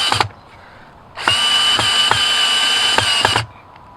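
A power drill drives a screw into plywood during a chicken coop build, with a short burst of motor whine, a pause, then a longer steady run of about two seconds, loud and close, with no talking.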